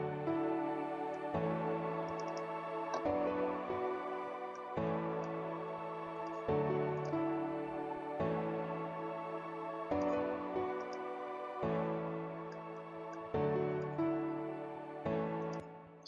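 Nexus synth pads and a melody in a chillstep track play softly in a steady rhythmic pattern, chords shifting every couple of seconds, with no talk.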